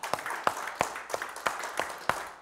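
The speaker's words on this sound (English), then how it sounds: "Give him a hand clap." Church congregation clapping hands together at a service, a steady rhythm of sharp, fairly close claps about three per second, with no talking over them.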